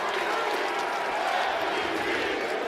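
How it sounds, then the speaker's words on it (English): Broad wash of applause from a large standing basketball crowd, steady and sustained, heard from a distance throughout. "Crowd on its feet applauding the effort here."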